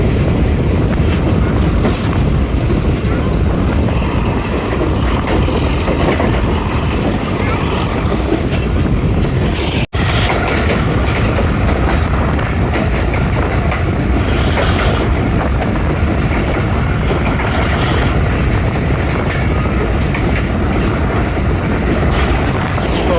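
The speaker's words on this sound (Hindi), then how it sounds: "सोहावा से थ्रू पास हो रही है 11 हज़ारा एक्सप्रेस।" The Hazara Express passenger train runs through Sohawa station without stopping, a loud, dense, unbroken rumble and roar of the moving train heard from on board, with strong wind buffeting throughout.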